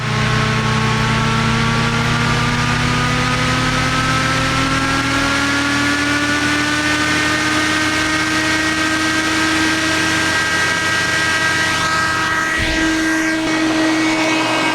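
The motor of an ADJ Entour Cyclone stage fan runs loudly and ramps up, its steady whirring tones climbing in pitch as the speed increases, with a rushing airflow roar underneath throughout.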